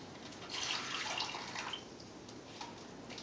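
Vinegar pours into a plastic sandwich bag of water held in a baking tin, a soft gurgling stream that swells then thins to a few drips, faint and close with no voices.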